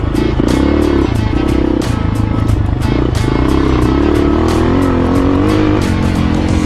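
A new motorcycle engine, close and loud, revs hard in rapid repeated bursts with a throbbing, crackling exhaust that rises and falls throughout, with no voices.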